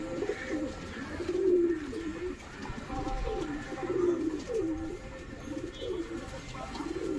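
Pigeons coo repeatedly at a backyard high-flying pigeon loft after four birds are released, soft throaty calls rising and falling in a steady rhythm, close and moderately loud over faint outdoor ambience.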